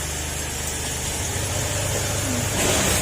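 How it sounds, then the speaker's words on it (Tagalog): A Honda Click 125 motorcycle engine idles after an overhaul, a steady low, even hum that stays at the same level throughout, with a slight rise in noise near the end and no talking. "Tahimik na uli yung makina niya."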